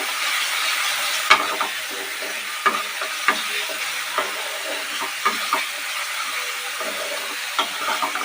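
Cumin powder, coriander powder and salt are stirred together in hot oil in a frying pan: a continuous close sizzle punctuated by irregular sharp clinks of the spatula against the pan, with no talking.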